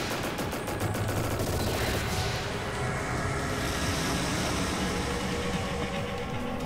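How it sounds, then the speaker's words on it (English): A video-game explosion in Trails in the Sky the 3rd, a loud, dense roar of blasts and crackling debris that keeps rumbling steadily for several seconds, with no talk over it. "Quite the explosion."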